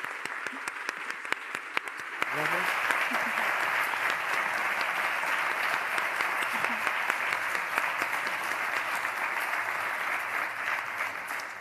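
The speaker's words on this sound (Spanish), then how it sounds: "dos aplausos. Uno a las ponentes que nos acompañaron" Audience applause at a Spanish-language cultural talk honouring the panel speakers: sparse claps build at about two seconds into steady, dense clapping that holds near and even to the end.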